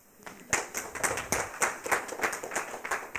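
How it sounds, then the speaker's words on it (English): Applause at a Wikimedia event gathering, with a small audience clapping in distinct, fairly close claps that start after a brief quiet moment and continue in an uneven, sparse rhythm. "Round of applause, please."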